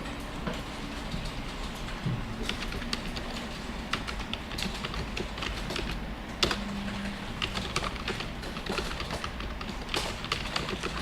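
Continuous typing on a computer keyboard while writing Python code, with a dense run of close, light key clicks and occasional heavier strokes like the Enter key, steady throughout, no talking.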